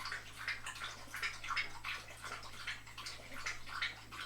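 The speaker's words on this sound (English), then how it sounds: "He's drinking so much water." Kobe laps up lots of water in quick, rhythmic wet slurps, close and steady, about two or three per second, with no talk.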